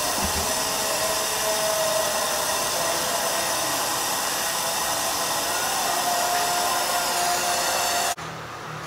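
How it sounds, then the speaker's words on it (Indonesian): A torch roars steadily while brazing a replacement capillary pipe on a 3/4 PK air conditioner, a loud continuous hiss with a faint tonal whine, cutting off abruptly near the end. "Selanjutnya ini saya las ya."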